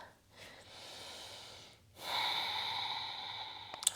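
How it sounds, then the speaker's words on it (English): Two slow, audible ocean-like ujjayi yoga breaths, a softer inhale followed by a longer, stronger hissing exhale, close and quiet with no talking. "Finding your ujjayi breathing."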